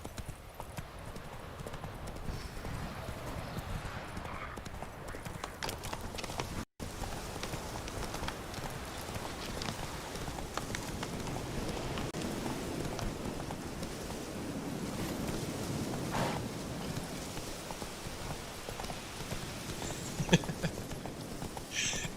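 Steady clip-clop of horse hooves in the video game The Witcher 3, an even trotting rhythm that runs throughout at moderate loudness, mixed with a rain-like patter and faint background talk.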